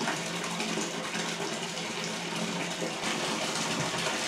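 Water with a bath bomb fizzes and gushes in a steady, close hiss and splash that holds evenly throughout, with no voices.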